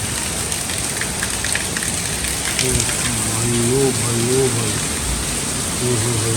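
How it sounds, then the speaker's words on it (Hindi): Heavy monsoon rain pours down steadily, a dense loud hiss filling the whole scene, while a man calls out and voices talk over it. "ये देखो क्या खतरनाक वाली बारिश है"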